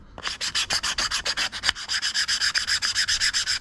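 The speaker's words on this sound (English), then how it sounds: "Make sure the sandpaper is nice and clean. Just go over this" Sandpaper rubbed by hand over an upcycled wooden desk tidy in steady back-and-forth strokes, about sixteen even rasping passes, close and clear with no talking.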